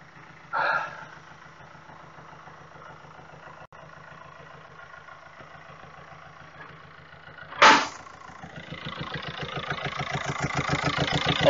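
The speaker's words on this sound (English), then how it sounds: "The airbox going into the turbo is making a hellacious noise." Diesel engine idling in a repair shop, a steady low rumble with two sharp bursts of noise, then a rising rushing roar from the turbo airbox building toward the end.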